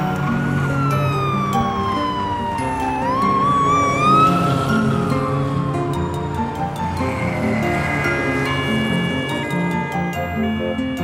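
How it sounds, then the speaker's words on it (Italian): A cartoon police car siren wails in sweeping rising and falling tones over bright, busy background music in a children's animated show, loud and continuous throughout with no talking. "Macchina di polizia!"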